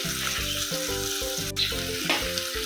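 Drumstick curry with mustard seeds, turmeric and red chili powder sizzles steadily in a hot pan as it is stirred, with a continuous close frying hiss and brief scraping of the spoon, no voices.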